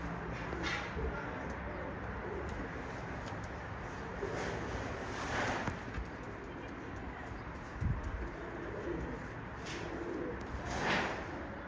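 Pigeons coo softly in a few brief calls over a steady background hum, with occasional faint rustles and knocks nearby.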